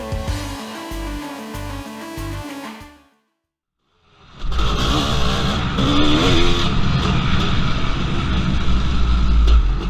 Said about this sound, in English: The CR500 is a beautiful engine.